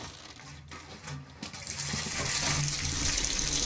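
Water pours and gushes steadily during a waterboarding scene in the Modern Warfare video game, starting after a few quieter rustles and growing into a loud, continuous splash.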